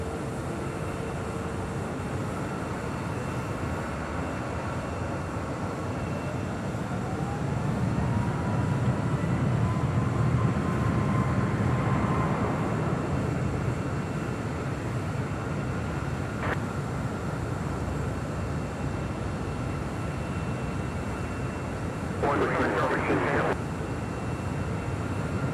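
A distant airliner's engines rumble and swell during its takeoff roll from runway 24 left at LAX, building to a broad roar midway before fading, faint and far off, with brief radio chatter.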